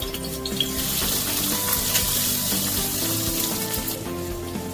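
A poached egg fries in a pan after being flipped, with salt and chilli powder sprinkled over it, a continuous loud close sizzle with a low clattering undertone throughout.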